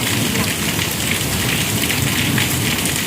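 Heavy rain pours down steadily in a dense, loud hiss on open ground and nearby surfaces, without a break across the whole stretch.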